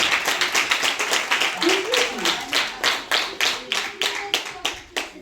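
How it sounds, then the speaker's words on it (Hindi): An audience at a programme for blind women gives hearty applause, with clustered claps in a pulsing, somewhat rhythmic pattern and voices talking underneath. "जोरदार तालियां"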